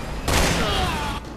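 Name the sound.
gunshots in the video game Resident Evil 6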